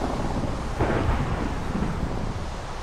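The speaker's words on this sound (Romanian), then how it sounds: "S-a terminat tunetul?" Thunder from a nighttime rainstorm in the video game Minecraft gives a broad, steady rumble with one swelling roll, under a constant hiss of rain and no talk.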